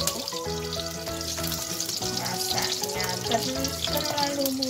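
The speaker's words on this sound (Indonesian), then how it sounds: "aku masukkan bumbu jahe serta bawang putihnya, 2 siung yang sudah aku geprek. Tumis sampai harum" Ginger and crushed garlic sizzle in hot oil with a dense, constant crackle, while background music plays underneath and faint clinks of a spatula come and go.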